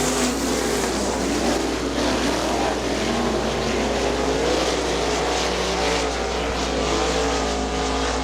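Super sprint race cars roar around a dirt track at Butler Battlegrounds, a loud, continuous wall of engine noise with waves of rising and falling revs as the pack races past.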